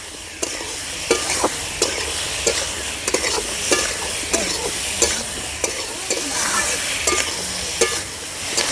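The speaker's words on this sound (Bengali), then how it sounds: "আলু আর টমেটো ভালো করে কষিয়ে নিয়েছি" A spatula stirs potatoes and green tomatoes frying with turmeric and salt in a pan, scraping in a steady rhythm about twice a second over a continuous close sizzle.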